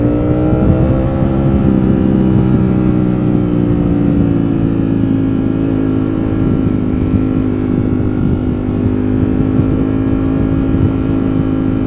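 A 2022 Ducati Streetfighter V4S motorcycle engine drones steadily while riding through New York City, a loud, continuous hum with a low rumble underneath that shifts slightly in pitch but holds near and constant throughout.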